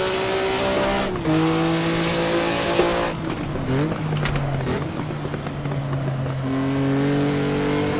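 A Maserati Formula One race car engine in Assetto Corsa, heard as a loud, continuous high-pitched roar close up, with rising tones through the gears, abrupt gear-change drops and pitch falling and climbing again, with no talking.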